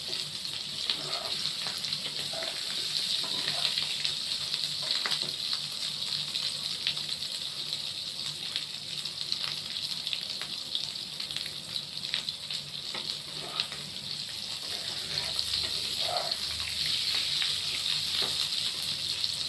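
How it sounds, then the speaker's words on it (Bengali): Potatoes fry in a blend of two oils, a steady loud hissing sizzle with scattered soft pops running throughout, close and unbroken. "আলুটা কিন্তু খুব ভালো করে ভাজতে হবে, লাল লাল করে।"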